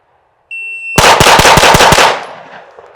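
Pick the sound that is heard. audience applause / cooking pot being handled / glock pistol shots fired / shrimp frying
glock pistol shots fired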